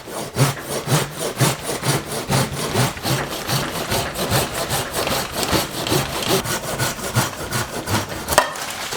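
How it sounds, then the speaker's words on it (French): A hand saw rasps steadily through a lemon tree bonsai's wood in quick, even back-and-forth strokes, close and loud with no talking. "je vais prendre ma scie, je vais essayer de faire une coupe relativement propre"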